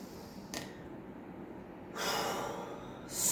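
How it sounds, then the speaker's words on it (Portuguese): Deep breaths taken during a guided breathing exercise, heard as soft, close airy inhales and exhales, the later ones louder and longer, with no talking. "Então eu vou fazer uma respiração profunda"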